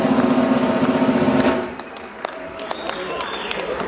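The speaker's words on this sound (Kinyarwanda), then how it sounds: "mu mpera amashyi menshi cyane" Enthusiastic applause from an audience at a celebration event, a dense, loud clatter of clapping under music that fades sharply partway through, leaving scattered claps and a quieter background.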